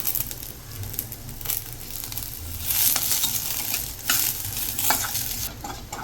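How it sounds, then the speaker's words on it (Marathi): Onion, garlic and ginger frying and being stirred in a pan, a loud steady sizzle broken by scraping stirs and crackles, with no talk. "आता आपण लसूण भाजून घेऊया लसूण आणि अद्रक"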